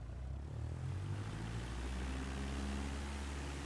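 A propeller aircraft engine in Microsoft Flight Simulator 2024 throttles up, a low steady drone with rising tonal hum, continuous and fairly quiet with no voices.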